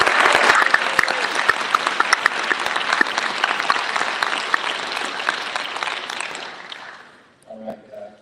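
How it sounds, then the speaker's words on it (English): A large audience at a Huntsville Black History Program event claps loudly and steadily for about seven seconds, then the applause fades out and a voice begins to speak faintly. "a round of applause for"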